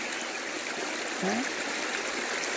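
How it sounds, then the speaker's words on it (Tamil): Stream water flowing steadily outdoors in Ooty, a continuous broadband rush with a brief gurgle partway through, near and fairly loud with no voices. "இந்த ஊட்டு தண்ணிக்கு நிகரானது எந்த தண்ணியுமே கிடையாது இவ்வளோ அழகாக ஓடுது பாருங்கள்"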